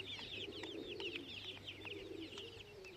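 Young pigeons on a rooftop cooing steadily and softly, overlapping calls at moderate distance with no voices.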